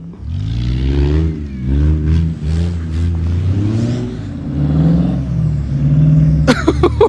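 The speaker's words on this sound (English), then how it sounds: "We got drifting over here in a Jeep." A Jeep drifts and revs across a snowy parking lot, its engine droning loud and close with rising and falling pitch sweeps, and a sharp clattering burst near the end.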